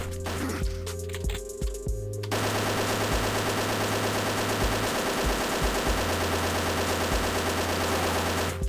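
Rapid weapon fire in an online browser game, a steady loud stream of automatic shots running continuously after a brief quieter stretch, with a game soundtrack underneath and no talking.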